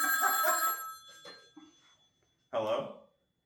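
A telephone bell rings in bursts, a bright metallic trill up close, with a shorter second ring after a quiet gap and a voice speaking over the first ring.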